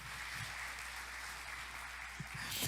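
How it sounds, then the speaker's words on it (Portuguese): A church audience applauds young performers, the clapping a continuous dense patter at moderate distance, steady throughout and swelling slightly at the end. "Salva de palmas para esses meninos aqui, atores bons."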